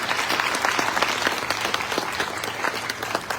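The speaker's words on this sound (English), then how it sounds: "Let's give a big round of applause to Jeff Aludo." Sustained audience applause for a county administrator at a small business address, a dense wash of many hands clapping steadily throughout, full and close.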